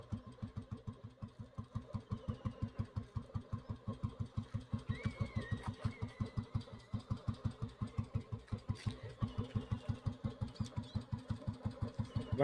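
An old Royal Enfield Bullet motorcycle idles with its single-cylinder engine thumping in a steady, even beat, close and continuous, with faint outdoor background noise.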